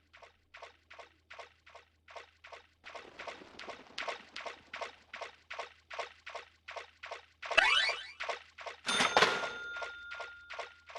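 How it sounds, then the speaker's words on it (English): Rhythmic soggy, squelching footsteps splash along at a steady pace in the video game Deadly Premonition: Origins after rain, followed by two louder, brief sloshing bursts near the end. "Why does it sound like we're walking in like a bucket full of water?"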